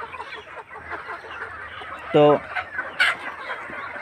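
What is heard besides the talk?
chickens clucking at a local market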